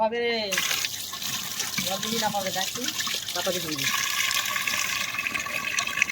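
Water pours and splashes steadily while fish water is changed in a home kitchen, a continuous close wash of liquid with a person speaking over it.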